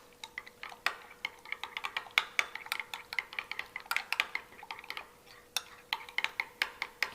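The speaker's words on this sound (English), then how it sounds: "We're going to give it a stir." Spoon clinking and scraping against a small dish while stirring a pickle, mustard and maple syrup dipping sauce, a quick irregular rhythm of sharp taps, close and moderately quiet with no talking.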